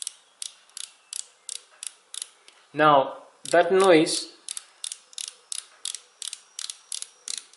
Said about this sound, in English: Now the ratchet will start making that noise.